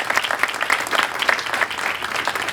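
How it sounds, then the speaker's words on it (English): Warm audience applause for supporters at a charity forum, with brisk, steady clapping from a crowd throughout. "may I give a warm round of applause to all our supporters"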